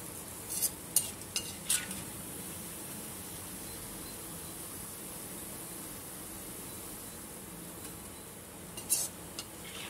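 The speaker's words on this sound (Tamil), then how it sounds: "இப்போ எண்ணெய் எல்லாம் நல்லா ஃபில்டர் பண்ணிட்டு இதை எடுத்துடலாம்." A fried snack is lifted out of its oil in a pan. A few sharp metal utensil clinks sound near the start and again near the end over a faint, steady background hiss.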